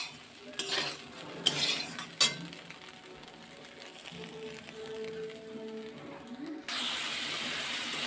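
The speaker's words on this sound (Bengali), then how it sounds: "দেখুন মশলাটা কষে নিচ্ছি" Spice paste for soybean curry being stir-fried on a stove indoors on a rainy day, with sharp utensil clinks and scrapes at first, then a quieter sizzle and a louder steady hiss at the end.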